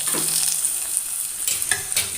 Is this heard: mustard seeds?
yes